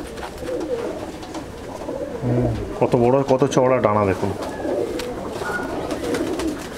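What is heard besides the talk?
Chennai breed pigeons cooing in loft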